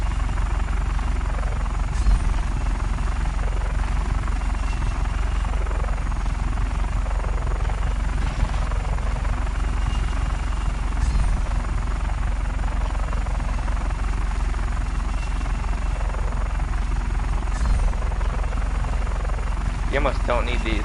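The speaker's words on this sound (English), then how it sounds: "This plane handles way different when you're inside of a city area." A plane flown through a city area in the video game Just Cause 3 gives a steady, droning engine hum with slow wavering pitch that runs continuously throughout.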